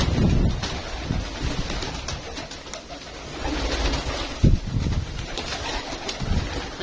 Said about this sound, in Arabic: ده بقى الحمام بتاعي اهو